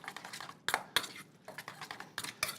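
A utensil clinks and scrapes against a bowl while steak sauce ingredients for a ribeye are mixed together, a close run of irregular clinks and stirring taps without talk.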